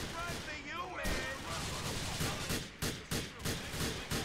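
Gunfire in the video game GTA IV: The Lost and Damned, a burst of rapid sharp shots followed by spaced repeated bangs, loud and close, with a voice talking over them.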